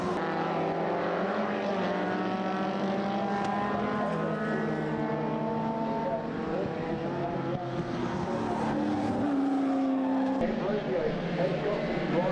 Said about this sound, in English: a snarling pack of XL Cup cars charging up behind him